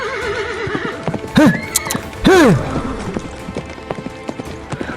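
Horse whinnies and clip-clopping hooves serve as a sound effect in a Filipino audio drama: two loud close neighs over a steady background of hoof clatter and rain-like patter, with no talk.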